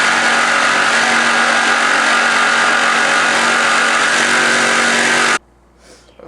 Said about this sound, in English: now we're just going to start to cut it out with the jigsaw